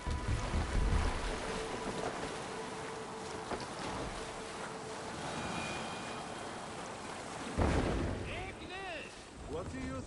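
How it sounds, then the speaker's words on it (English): Rowing a Viking longship in Assassin's Creed Valhalla, with steady water wash and wind noise around the boat and a few louder oar splashes, while voices speak over the scene. "No raising the sail here. Need to row our way."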